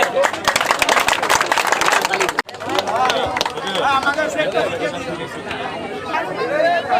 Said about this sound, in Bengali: সবাই তালি দে